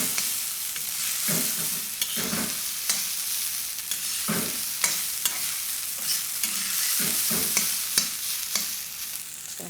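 Lemon rice being tossed and stirred in a hot pan, with a continuous sizzle under rhythmic scraping and stirring strokes from a spoon, close and steady, with no voices.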